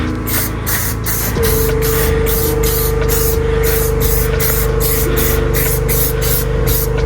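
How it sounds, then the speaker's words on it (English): SC1 cleaner is sprayed onto dirt bike tires under the fenders in a long, loud, continuous hissing burst from an aerosol can, close up, with a faint mechanical hum underneath. "I use SC1 and I spray the tires in just under the fenders."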